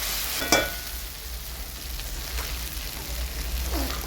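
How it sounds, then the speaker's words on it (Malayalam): Onions sautéing in a pan for a home-cooked Kerala-style dish, a steady close hiss of frying with an occasional stir scrape, no voices. "കുറച്ചും കൂടി വഴന്നിട്ട് അതിനൊരു ഈ ഉള്ളിക്കൊരു മണം വരും."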